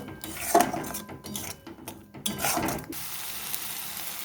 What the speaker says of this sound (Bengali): সমস্ত মশলা ভালো করে কষিয়ে নেব।